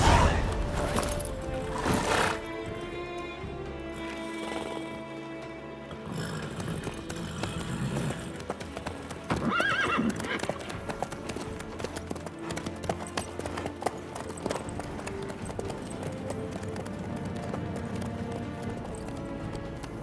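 Hooves clip-clopping from a horse in The Witcher 3: Wild Hunt, a steady trotting beat mixed under game music and ambience, with a brief bit of voice.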